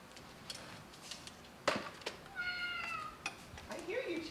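A pet cat named Tuco meows for food indoors in a few short, drawn-out calls, the later ones rising and falling in pitch. They are fairly close and moderately loud, with brief clicks and soft human speech nearby.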